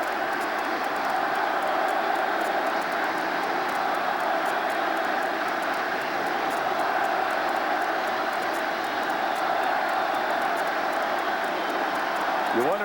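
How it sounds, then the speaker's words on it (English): Dense, roaring crowd at a 1996 baseball playoff game between the Rangers and Yankees, a steady loud wash of sound filling the whole stretch without letup. "You wonder if the crowd noise isn't a little overwhelming right now, even for Mariano Duncan."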